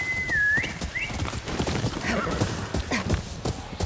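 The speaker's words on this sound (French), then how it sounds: "Et là il y a des chevaux sauvages, c'est magnifique ça." Wild horses in the video game Ghost of Yotei: a high whinny opens, followed by more whinnies and steady hoof clip-clops at moderate distance, all fairly loud, with no speech.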